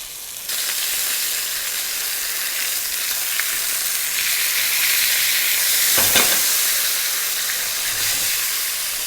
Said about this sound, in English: We're going to fry a little bit more on the other side.